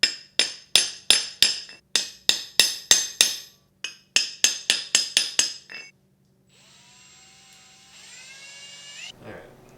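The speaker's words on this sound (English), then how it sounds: "center punch through these holes and then drill the holes for the bracket" Sharp metallic hammer strikes on a center punch mark holes in a steel mounting plate for a car engine mount, about twenty ringing blows in quick bursts, then a drill whines briefly at the end.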